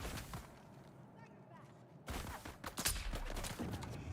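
Gunfire in the video game Dune Awakening, a burst of loud, sharp shots after a quieter stretch, with rapid cracks clustered in the second half and background game noise throughout.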